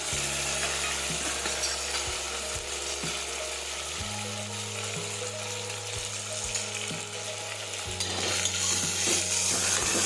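Chopped vegetables and tomatoes with asafoetida sauté in a pan, a loud continuous sizzle with scraping stirring strokes and clinks throughout, close and without talk.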